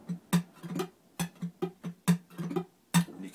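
An acoustic guitar plays a fingerpicked pattern, with thumbed bass notes and quick flicked strums of the middle finger in a steady, syncopated rhythm, close and alone.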